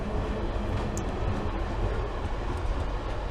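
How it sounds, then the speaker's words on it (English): A train rolls past nearby, a loud continuous rumble of rail cars on the track with a brief higher squeal, steady throughout and without voices. "Pretty cool train, though, I have to say."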